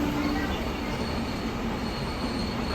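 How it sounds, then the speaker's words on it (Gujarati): A train rolls along the Saurashtra main line just behind a house, a steady close rumble of wagons with wheel squeal running throughout and no voices. "અમારા ઘરની પાછળથી સૌરાષ્ટ્રની મેઇન લાઈન જાય છે. રોજની 120 ટ્રેન જાય છે"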